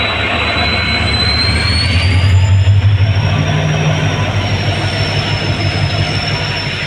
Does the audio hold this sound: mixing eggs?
no